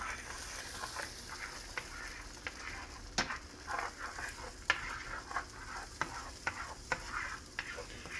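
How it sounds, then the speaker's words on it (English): Three eggs frying in a pan for fried rice, giving a steady crackling sizzle with sharp pops and spatters scattered throughout. "We're going to fry 3 eggs."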